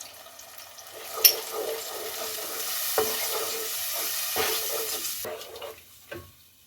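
Potatoes stirred with a spice mix of salt, red chili, crushed chili, turmeric and coriander powder in a hot pan, a close, steady sizzling scrape with a few soft knocks of the spoon against the pan.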